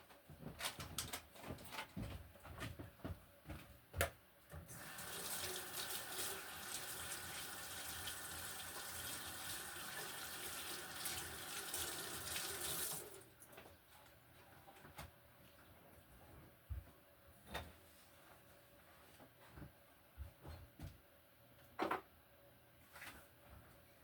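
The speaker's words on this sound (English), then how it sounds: "I'm gonna wash my hands real fast and I'll be back." Hands washed under a running kitchen tap, a steady rush of water for about eight seconds after some faint clinks and handling noises, followed by scattered taps and quiet room sounds.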